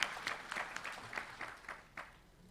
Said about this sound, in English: the devotees of the Verulam branch deserve another round of applause